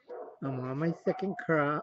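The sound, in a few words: neighbor's dogs barking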